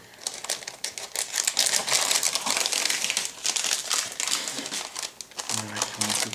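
A plastic bag of parts from a 1/48 scale WWII German Focke-Wulf Fw 189 A-1 model kit crinkles loudly and continuously at close range for several seconds, with a voice speaking over the last moment.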